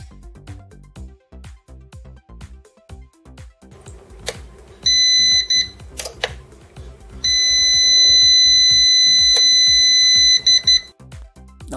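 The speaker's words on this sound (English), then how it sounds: "red LED and continuous beep indicates that there is a fault inside the unit" A Prolink PRO701SFC line-interactive UPS with an internal fault sounds its alarm: a sustained high electronic beep that cuts in twice, the second run lasting several seconds, over rhythmic background thumps.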